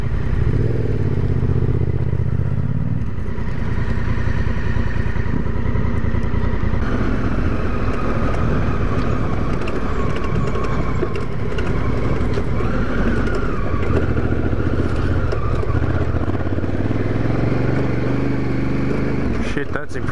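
Several motorcycles set off along an outback trail over boulders and bull dust, engines droning steadily and revving loudly up close throughout, with no talk over them.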